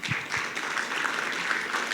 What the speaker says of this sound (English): If everybody'd like to join me in applauding Jonathan, thank you